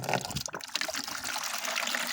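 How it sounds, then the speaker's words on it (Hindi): Water runs from a tap or hose into a bucket at a Saudi bee farm, a steady close gush with a sharp splash at the start, then a continuous rushing fill. "ये चल पड़ा, अभी पानी खा लिया हमने, बाल्टी भरना है।"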